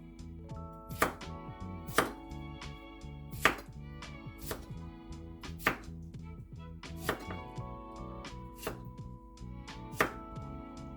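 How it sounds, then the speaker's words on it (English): A knife chops cucumber into rough chunks on a board, with sharp, close cuts landing about once a second over a faint steady background hum. "And then all you have to do is cut it into rough chunks."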